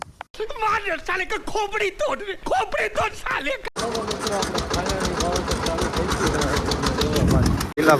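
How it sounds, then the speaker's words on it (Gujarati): A tractor engine runs in a field during peanut sowing, its close, rapid throbbing chug taking over steadily after a stretch of talking in the first half. "ટ્રેક્ટર"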